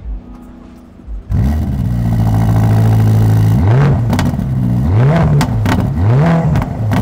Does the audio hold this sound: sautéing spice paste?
no